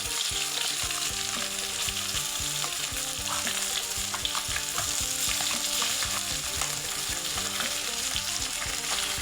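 Tilapia fish fries in hot oil with a loud, continuous crackling sizzle that stays at an even level from start to finish, and no voices are heard.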